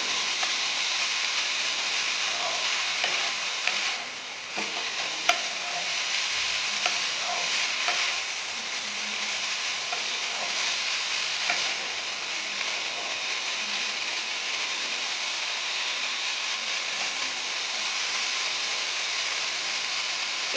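Red amaranth greens with chopped pointed gourd fry in a pan, giving a steady loud sizzle and hiss that runs on without a break, with one brief dip and a few faint clinks.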